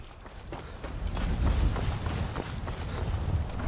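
Horse hooves clip-clop in a steady running rhythm as a rider travels on horseback in a video game, loud and close over a low rumbling background.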